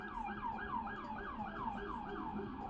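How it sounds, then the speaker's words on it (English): A loud wailing siren cycles up and down repeatedly, steady and close, with faint traffic rumble underneath. "Dude, that is a loud siren."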